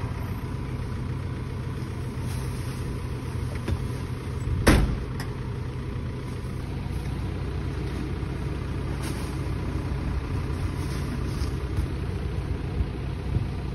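A rented truck in Tokyo driving along with its engine running at a steady low hum and road rumble, heard from inside, with one brief louder bump partway through and no talking.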